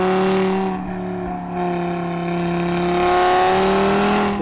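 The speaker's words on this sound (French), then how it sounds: "la sonorité si particulière du 5 cylindres moteur dont la mélodie naturelle peut être magnifiée par l'échappement Sport RS" A 2015 Audi RS3 Sportback 2.5 TFSI five-cylinder with 367 hp and the optional RS sport exhaust revs up close by, its warbling tone rising and falling through a few swells of throttle.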